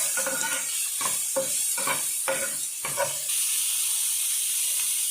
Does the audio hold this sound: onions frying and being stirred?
yes